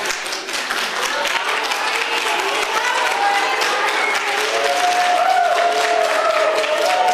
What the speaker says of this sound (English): Let's applaud this gentleman that he live in our audience.